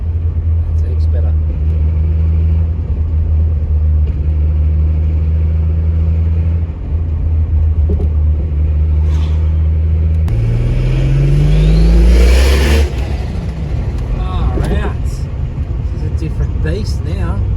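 A Holden VL Turbo with a newly fitted twin plate clutch idles with a deep rumble, then accelerates hard, its engine note climbing sharply before settling. Someone talks and whoops over the engine throughout.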